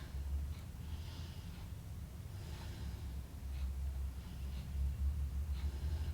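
Slow, deep breathing during a lying yoga rotation stretch, knees dropped to one side, with soft rhythmic inhales and exhales over a low background rumble, close and quiet, no talking.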